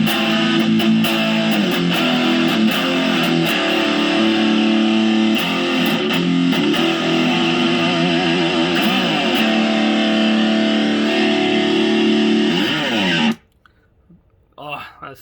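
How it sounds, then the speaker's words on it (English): Heavily distorted electric guitar through a Boss DA-2 Adaptive Distortion pedal, set all the way up, plays loud and thick, sustained chords ringing for most of the stretch before cutting off abruptly near the end. "let's move over to the DA-2 adaptive distortion and hear how this sounds"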